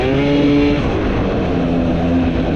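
A two-stroke scooter converted from 50cc to 125cc is ridden, its engine revving loud and close with a buzzing, whining tone that rises and steadies over a few seconds, with no talking.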